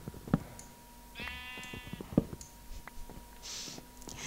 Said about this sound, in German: Das Gemur und dann das Schaf dazwischen.